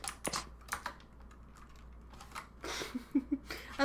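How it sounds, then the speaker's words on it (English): Clicky computer keyboard being typed on in bursts of sharp, close clacks, with a denser flurry of keystrokes near the end; no talking. "A little keyboard ASMR."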